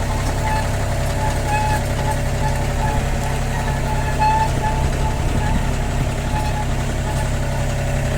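A Yanmar YB251U mini excavator's diesel engine runs in a loud, close, steady drone with faint tonal whines as the blade is raised and the machine starts to move off.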